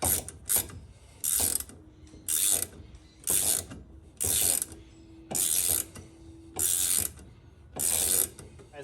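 A hand ratchet tightens suspension bolts and the lower control arm on a Nissan S13 drift car during an angle kit install: about eight loud, close bursts of rapid pawl clicking, each about half a second, with short pauses between.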